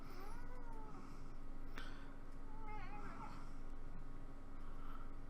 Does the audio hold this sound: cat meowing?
yes